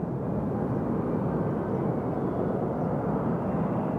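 A Sun Country airliner departing Nashville International Airport roars as a broad, steady low rumble, distant and unchanging throughout.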